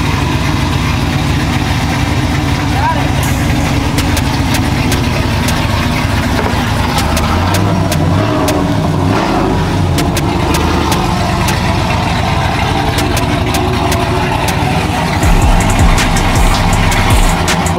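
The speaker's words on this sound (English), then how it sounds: "finally, the truck, she's running good. She's running strong." A Z71 pickup truck's engine idles loud and close with a steady low rumble, then swells into a deeper rev near the end, with no voices.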